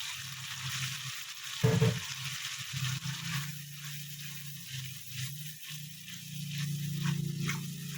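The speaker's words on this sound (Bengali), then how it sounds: "দিয়ে ভালো করে কষে নেব যতক্ষণ না তেলটা আলাদা হচ্ছে।" Poppy seed paste sautéing in hot oil gives a steady, close sizzle and crackle, with a brief louder stirring scrape near the start and a continuous frying hiss throughout.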